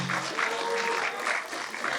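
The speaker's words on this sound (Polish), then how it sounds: "poproszę o wielkie brawa od uczestników dla wszystkich opiekunów" Audience applause from participants at an outdoor Paralympics-style sports event for people with disabilities in Krzęcin, Poland; steady, dense clapping holds at even loudness for the full two seconds.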